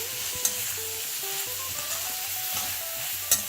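Onions and tomatoes sizzling in a pan for Indian peas pulao, a steady close fry with a couple of sharp clinks as the pan is tossed.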